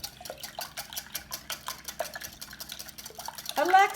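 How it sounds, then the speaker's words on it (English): About ten raw eggs are whisked in a bowl, giving a rapid, steady clicking and tapping of the whisk against the bowl, fairly close, ending in a brief louder splash of liquid. "I have broken about 10 eggs in here. I'm going to just whisk those up."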